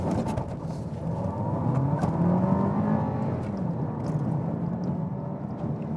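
A 2020 Volkswagen Golf 8 in sport mode, front-wheel drive, revs and accelerates with a steady engine drone that rises in pitch, heard from inside the car with no talking.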